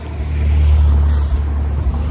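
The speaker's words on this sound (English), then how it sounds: "So I have no music except the cars going by" Steady low road rumble of cars going by outside, a continuous passing-traffic drone that swells slightly and then eases, with no voices.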